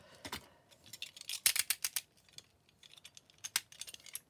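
Paper being cut straight with scissors for a handmade December Daily booklet spine, a run of quick, close, crisp snips and clicks in an otherwise quiet room.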